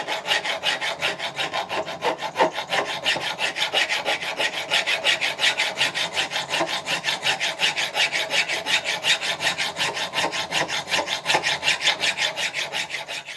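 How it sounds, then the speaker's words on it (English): A hand file rasps across a metal pedestal for a Stuart half beam model steam engine, steady rhythmic back-and-forth strokes, close and fairly loud, continuing without pause. "tidying up the rest with this hand file"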